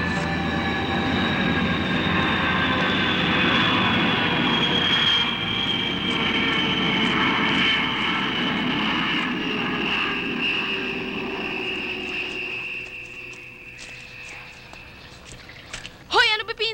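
A large aircraft passes overhead as a loud, sustained roar that slowly fades over about twelve seconds, ending with a few sharp knocks.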